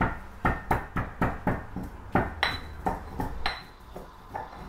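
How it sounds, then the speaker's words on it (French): Chili pepper is pounded by hand in a series of sharp, evenly spaced hard knocks, close and fairly loud, slowing slightly toward the end. "Je vais essayer de piler mon piment."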